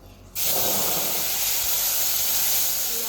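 A paste of cumin, green chilli and ginger dropped into hot oil, bursting into a sudden loud sizzling hiss that stays strong and steady for several seconds.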